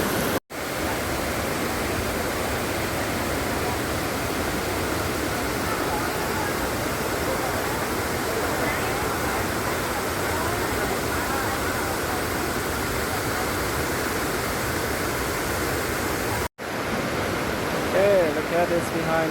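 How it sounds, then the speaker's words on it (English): Rushing water pours down the fourth tier of Hat Yai waterfall in Hat Yai National Park, a loud, constant roar filling the scene without letup, cut only by a couple of brief dropouts. "Currently I'm standing at the fourth level of waterfall Hat Yai"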